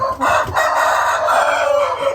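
A Thai gamecock, a Koi Ngon breeding rooster and six-fight champion with a bent, injured toe, crows once in a long, hoarse, continuous cock-a-doodle-doo, close and loud with no talking over it.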